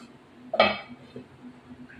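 A single sharp metallic clink as a lid is set onto a cooking pot of tilapia simmering in a mustard and poppy-seed curry, close and brief, followed by a quiet kitchen hum.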